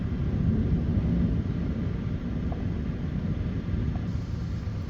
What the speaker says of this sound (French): profitez du bruit du tonnerre et du spectacle électrique